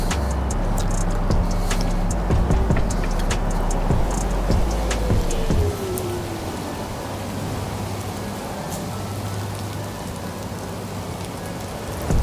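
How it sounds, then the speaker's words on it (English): A Hiboy S2 Pro foldable electric scooter rolling downhill outdoors and braking, with rough wind-blown rumble, clattering knocks and a brief descending whine as it slows, then steady broadband road and wind noise. "So now we're gonna go down the hill and we're gonna test out the electronic brakes and see the stopping power of them going downhill."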